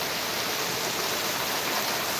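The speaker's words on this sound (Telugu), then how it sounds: "వాన వచ్చి వరదలు పడుతున్నాయి" Floodwater rushing along a stream after heavy rain in Dharmavaram, a steady, loud, unbroken wash of water noise close by with no voices.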